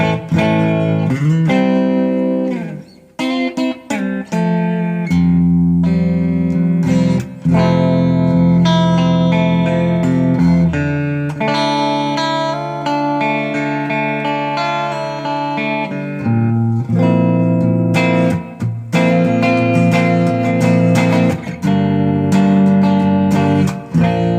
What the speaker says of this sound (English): I'm getting this kind of a tone on both humbuckers.